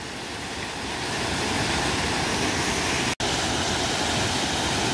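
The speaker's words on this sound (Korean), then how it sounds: "저희 제2용서 폭포입니다." The Second Yongso waterfall in Deokpung Valley gorge, Samcheok, a deep pool fed by heavy water flow, roars as a loud, steady, close rush of falling water with no other sounds.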